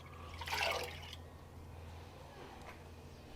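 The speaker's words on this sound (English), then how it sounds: "I already have water measured out in my fancy measuring cup. Just going to use it to rinse this out." Water poured from a measuring cup to rinse out a ceramic crock pot insert, a short splashing pour followed by quiet trickling and a faint drip, close and alone.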